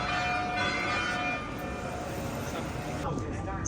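Church bells ring near Naples with steady, sustained tones over a constant outdoor background hum, moderately distant and continuing throughout.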